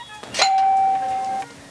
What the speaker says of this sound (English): A chime will ring in the galley to alert G that you are about to speak.